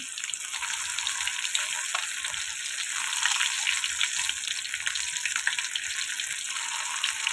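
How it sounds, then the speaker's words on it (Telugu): Fish fry pieces sizzle in hot oil in a pan, a steady, close, dense crackling hiss that holds level throughout with no voices. "ఇలా ఫ్రై అవుతున్నాయి కదండి, రెండో వైపు కూడా టర్న్ చేసుకున్నాం"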